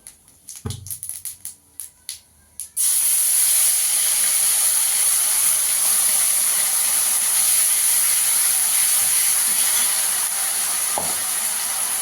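Ground ginger, garlic and onion paste hits hot oil with whole cumin seeds: a few clinks and knocks, then an abrupt loud, steady sizzling hiss that holds at full strength to the end.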